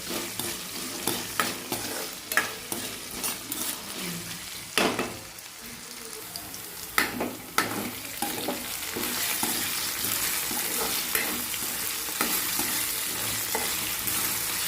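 Potatoes are stirred with salt in a frying pan, spoon scraping and clacking against the pan in repeated strokes over a steady loud sizzle, close up, with no talking.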